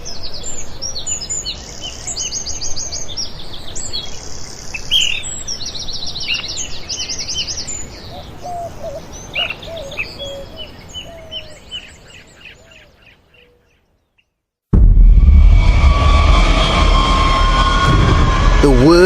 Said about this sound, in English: Birds singing very early in the morning.